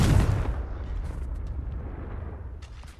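A Confringo spell explodes in the Hogwarts Legacy video game: a single loud, sudden blast at once, followed by a rumbling tail that fades over a few seconds, with faint sparkling effects near the end.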